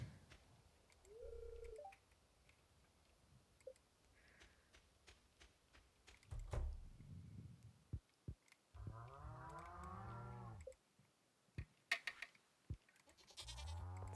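A goat in the Stardew Valley video game gives a wavering, drawn-out bleat among quiet electronic game beeps, clicks and tones.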